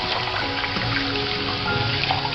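Cold tap water runs steadily over a table tennis paddle sponge, a constant close hiss with faint trickling and no pauses and no talk.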